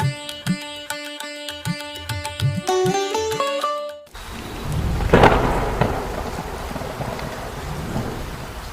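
Steady heavy rain with a loud thunderclap rumbling through midway, preceded by a few seconds of music with no talking.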